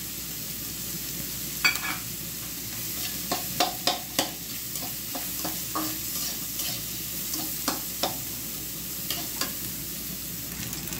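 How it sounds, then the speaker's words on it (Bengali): Onion and dried shrimp fry in a pan with a soft steady sizzle, punctuated by a series of sharp scraping clicks from stirring, close and fairly quiet. "পেঁয়াজ আর কাঁচা শুকনো এই চিংড়ি মাছটা ভাজা ভাজা হয়ে গেছে"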